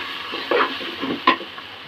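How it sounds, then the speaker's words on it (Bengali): Onions fry until reddish in a pot of khichuri, where brief bursts of stirring and scraping flare over a low sizzle. Two sharper strokes stand out partway through. "পেঁয়াজটা লাল লাল করে ভাজা হয়ে গেছে"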